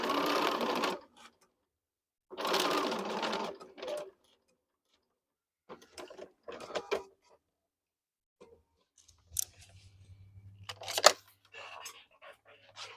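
A sewing machine stitches fabric for a rainbow FPP quilt block in short bursts of about a second each, with quieter ticking handling sounds and a low hum in the later pauses.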